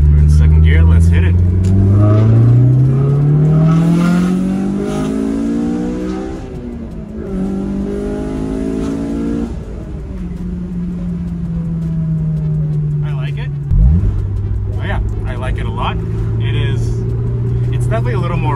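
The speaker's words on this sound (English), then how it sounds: "you guys will be able to see my first impressions with how the exhaust sounds once we rev it out to red line" A Honda S2000 fitted with a Berk 70mm high-flow catalytic converter revs hard in second gear toward redline, engine pitch climbing in long sweeps, dropping between pulls, then a final rise and a lower steady drone, loud and close.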